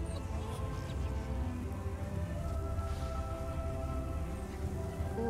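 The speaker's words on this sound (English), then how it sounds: "I think it's also because of the rain." Steady rain falls continuously during a quiet indoor stream, a dense, even patter with low rumble underneath, moderately loud and unbroken for the whole stretch, with no talking.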